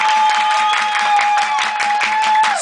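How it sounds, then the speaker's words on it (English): Concert crowd at a show clapping in fast, even double time, a regular pulse of many hands over a held musical tone that bends down at the end. "give her some double time clap"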